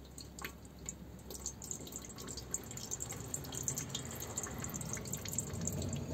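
Water drains from washed food in a pot inside a camper van, a steady faint trickle and patter of pouring and dripping with no talking.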